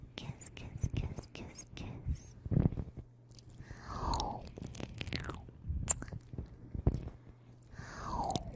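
Close ASMR ear-biting sounds from a Vtuber: wet nibbling, chewing and crunching right at the microphone, repeated in uneven bursts, with soft whispering throughout.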